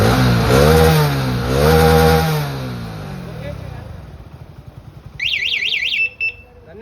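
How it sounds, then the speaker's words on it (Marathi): A car started remotely from a mobile phone sounds off with a loud, swooping alarm-like tone for about two seconds, followed by a fading engine idle. Short chirping beeps come near the end. "गाडी स्टार्ट झाली."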